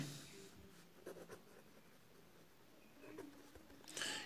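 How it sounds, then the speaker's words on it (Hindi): Chalk or marker taps and scrapes faintly on a classroom board in short strokes, quiet and close, with a soft room hum beneath. "हम लिखेंगे अमाउंट"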